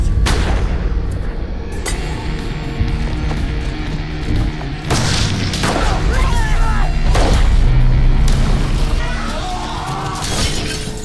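Gunfire bursts out during a police shootout, loud cracks and booms recurring across the scene amid shouting voices and a dense, noisy action-film soundtrack.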